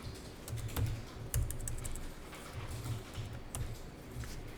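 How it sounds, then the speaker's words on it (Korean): Fingers tap quickly on a computer keyboard in an accounting class, with uneven bursts of close, clicky keystrokes and brief pauses, the sound of the keys alone. "적요는 우리가 여기다가 타이핑을 하는 게 낫겠네요"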